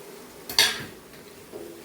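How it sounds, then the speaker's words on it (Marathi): A spoon stirs ivy gourd (tendli) and potatoes into tomato masala in a pan, making a sharp metallic clatter followed by softer scraping and shuffling, close up with no talking. "आता याला छान आपण मिक्स करून घेऊया"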